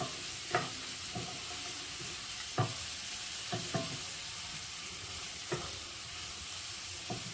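Green chillies fry and sizzle in hot oil, a steady hiss broken by several sharp, close spoon scrapes and clinks as they're stirred at irregular intervals; no one talks.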